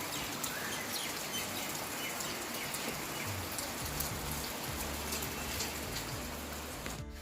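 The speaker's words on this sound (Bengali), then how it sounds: "একদম সুন্দর বৃষ্টি পড়ছে।" Steady rain falls outside on a wet morning, a continuous close hiss of drops on surfaces with a few faint bird chirps mixed in and no talking.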